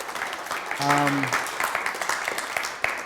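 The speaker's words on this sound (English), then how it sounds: "Round of applause for yourselves." Applause from an audience at a health talk fills the whole clip as a steady wash of clapping under a brief tonal voice or whoop, moderately loud and sustained.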